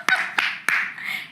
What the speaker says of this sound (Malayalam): കൈയടിക്കടാ, കൈയടിക്കടാ.